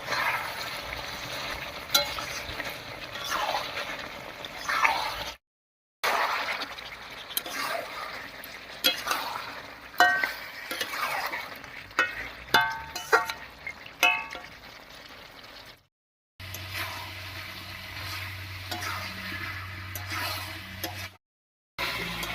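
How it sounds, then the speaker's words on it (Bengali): Country chicken pieces and potatoes sauté in oil in a pan for a red chicken curry, with soft sizzling, repeated stirring scrapes and occasional clinks, interrupted by a few brief silent gaps, no talking. "এবারে আলুর সঙ্গে মাংসটা আরো কিছুক্ষণ কষিয়ে নেব"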